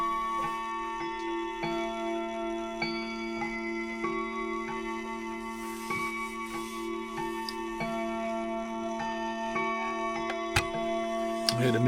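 A Colonial mantle clock made in Michigan with a German movement ticks in a steady, even rhythm, close and moderately loud over a faint background hum.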